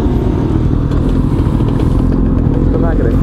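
Loud, rumbling engines of a sizeable group of motorcycles roar close by in a continuous drone, with a voice talking over the noise.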